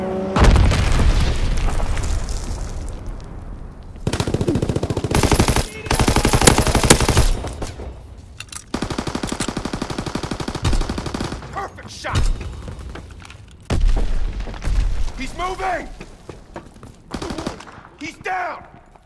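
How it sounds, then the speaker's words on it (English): Aircraft strafing run in Call of Duty WWII: bursts of machine-gun fire and heavy booming explosions come in loud waves, with short gaps of quieter battlefield noise and voices calling out between them. "Fighter aircraft ready. Call for a strafing run."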